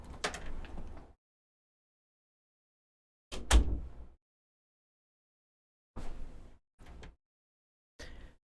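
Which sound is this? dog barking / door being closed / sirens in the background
door being closed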